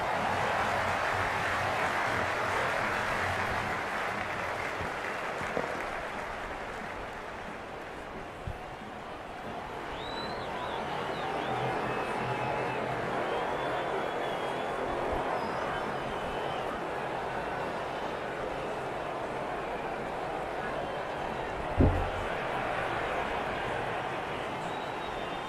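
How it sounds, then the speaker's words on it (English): A big cricket stadium crowd at a T20 match between India and Pakistan roars in a steady, dense wash of cheering that barely changes, with a couple of brief thumps and a commentator talking over it. "It's evident and ever so audible that the crowd is at near bursting point at today's play."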